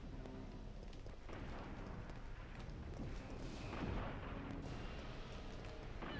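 Rocket launcher fire in Resident Evil 3 Nemesis (1999) booms through a dense, continuous rumble of game noise, swelling into a heavier blast midway.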